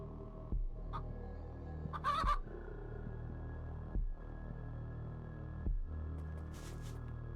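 Chickens in the Chicken Dungeon 3D video game give several short, separate clucks and squawks over a constant low electronic hum, with rhythmic thuds spaced a second or two apart.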